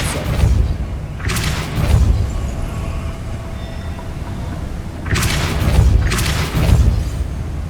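The Depulso spell fires in the video game Hogwarts Legacy as loud, rushing blasts, two near the start and two more close together later, over a steady low rumble, with no one talking.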